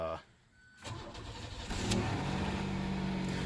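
A 1992 Oldsmobile Toronado Trofeo engine cranks and catches after a brief quiet gap, then settles into a steady, fairly loud idle close by.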